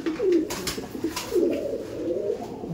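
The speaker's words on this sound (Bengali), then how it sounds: "এটা ডিম দেওয়ার পেয়ার ছিল, চটিয়াল কাজ্জি পেয়ার দেখতে পাচ্ছেন আপনারা" Kabji pigeons, a Chotial Kabji pair, coo in a loft in low, rolling, repeated phrases, close and clear, with faint background noise.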